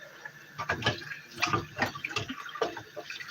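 Running water rinses out a juicer machine after making apple juice, a continuous splashing wash broken by irregular clatters and knocks of the parts, fairly close and steady, with no talking.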